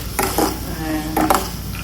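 Ginger and garlic hitting hot oil in a pan for a vegetarian fry, with a steady soft sizzle under two brief clattering bursts of a spoon stirring against the pan, close by.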